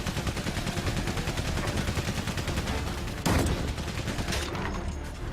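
Gunfire in the World War I video game Valiant Hearts: The Great War, a dense, steady stream of rapid machine-gun-like shots throughout, with a sharp louder blast near the middle and more bursts after.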